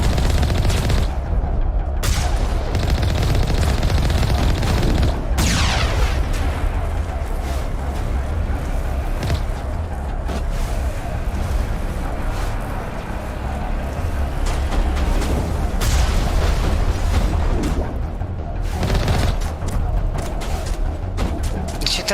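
Gunfire aimed at the player in Mass Effect Legendary Edition, a dense loud barrage of shots and blasts running throughout, with excited voices talking over it.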